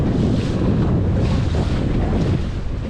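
Steady roar of wind buffeting the microphone, with waves washing against the hull of a Laguna-Kombi+ centreboard dinghy sailing on a bay, loud and continuous without pause.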